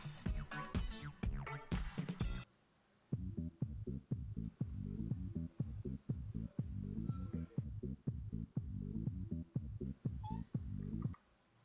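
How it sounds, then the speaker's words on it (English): A cat meows repeatedly in a steady run of short calls, close and fairly clear, over a low hum, after a brief stretch of busy game sound at the start. "I just had a cat meow in my ear"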